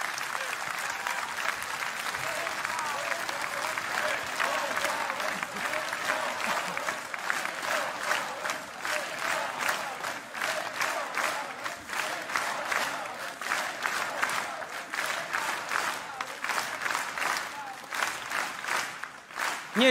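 Sustained applause and cheering from a large political rally crowd honouring Lech Wałęsa, dense and steady throughout with rhythmic clapping swells and no clear single voice on top.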